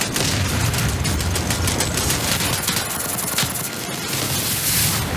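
Continuous rattling gunfire in a first-person shooter video game, dense overlapping bursts and booms filling the whole stretch at steady loudness, with no speech.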